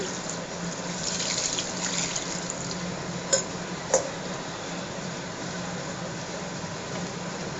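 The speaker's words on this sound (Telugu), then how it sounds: "సరిపడా వాటర్ కూడా పోసేసి" Water pours steadily into a pot of fish curry (pulusu) mixed with spices and cumin, a continuous close splashing stream with a couple of small clinks, no talking.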